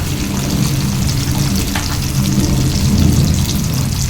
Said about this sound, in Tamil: தக்காளியும் சின்னது தான், ஒன்றே ஒன்று போடுறேன். தக்காளியும் நல்லா வதங்கட்டும்.